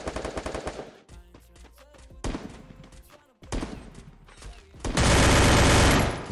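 MP5 submachine gun fire in a competitive video game match, loud rapid automatic bursts broken by short pauses, ending in a long dense burst, with players shouting and talking over it.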